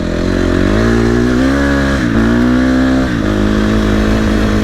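A KTM SXF 250 motocross bike engine, loud and close, revving repeatedly with rising pitch that drops back and climbs again in continuous throttle sweeps.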